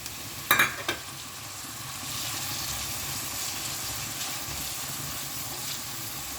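Onion and tomato sautéing in a pan for a Deepavali mutton masala, a soft steady sizzle with a couple of sharp utensil knocks early on, the frying hiss swelling slightly afterward.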